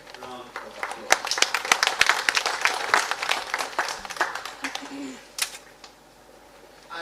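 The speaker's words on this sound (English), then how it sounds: "Please, let's give them a big round of applause." An audience at the 65th meeting of the Committee of Governors of Central Banks of ECOWAS member states breaks into a round of applause, dense clapping swelling and then thinning out over several seconds.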